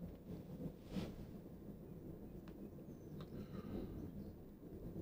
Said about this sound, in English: It is thundering. If you can't hear that, it's like, it's hard rolling right now.